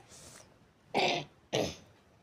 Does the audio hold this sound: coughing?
yes